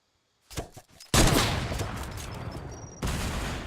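Fortnite gunshots fired into a floor or wall: a quick rattle of shots after silence, then a loud sustained burst of impacts and crumbling debris, renewed with a sharp hit near the end.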